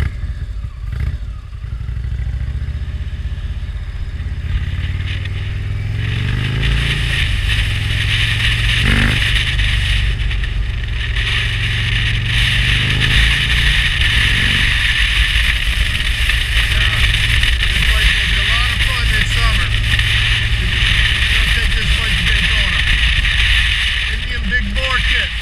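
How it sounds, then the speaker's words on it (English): An Indian Springfield motorcycle fitted with a 116 cubic inch big bore kit idling, a loud close lumpy V-twin rumble that revs briefly before settling into a steady loping idle. "Nice idle when she comes down, a little potato there."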